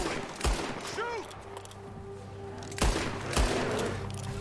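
Gunfire in Red Dead Redemption 2 as shots are fired at a bear: three sharp, loud reports spaced over a few seconds, with a brief whooshing pitched sweep between the first two and steady game ambience underneath.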